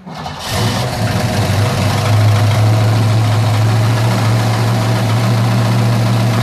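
A car engine idles steadily and close by, a low, even hum with the quick, light ticking of valve lifters running through it, and no talk.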